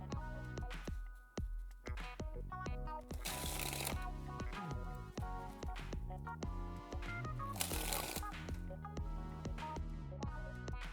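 Playing cards dribble from one hand to the other in a cardistry move, giving a quick, soft, fluttering patter in repeated bursts, close and quiet, with no voices.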